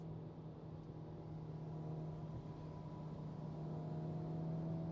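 Hyundai i20N hot hatch engine pulling in second gear toward about 5,000 rpm at 80 km/h on a hill road, a steady droning hum with a rising tonal whine, heard from inside the cabin at moderate level without speech.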